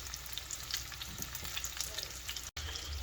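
Pork Italian sausage meatballs fry in a hot pan with a steady, close sizzle and spatter, a few soft scrapes and stirring clinks underneath, and one abrupt split-second dropout near the end.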